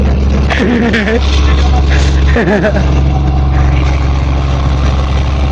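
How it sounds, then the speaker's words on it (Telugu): A fishing boat's engine, heard at sea through its silencer, makes a loud, steady, low droning hum that runs for the whole stretch while voices talk over it. "సైలెన్సర్ ఉంటుంది బోట్కి ఆ బోట్ సైలెన్సర్ ఉండడం వల్ల నాయిస్ ఎక్కువైపోద్ది"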